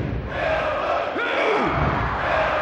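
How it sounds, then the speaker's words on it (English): Roaring crowd at a wrestling match in the PlayStation game WWF Attitude, a dense continuous din of cheering and yelling with brief whooping shouts rising above it. "Hey, this crowd is crazy."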